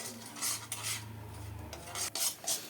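A spoon scrapes and clinks against a pot as a boiling herbal hair dye mixture is stirred, quiet repeated scraping strokes over a low bubbling hum, with no voices.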